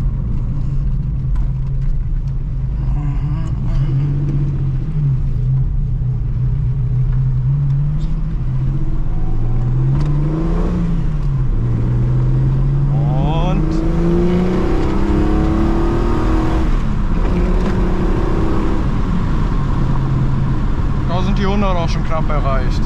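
Ford Capri 2600 RS from the 1970s driving, its engine revving up and down through rising and falling pitch sweeps and shifts. The engine sound is loud and close, with people talking over it.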